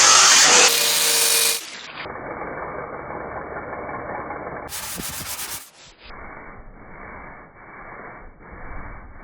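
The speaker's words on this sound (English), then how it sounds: "It's time to start cutting." Power tool cutting into metal on a mud truck near the axle: a loud harsh grinding burst, then a steadier lower rasp, a second loud burst midway, and continued rough cutting to the end.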